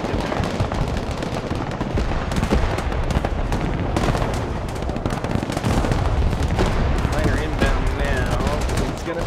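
Heavy artillery fire and explosions in the video game Broken Arrow pound continuously, dense bursts and booms layered together with voices shouting underneath.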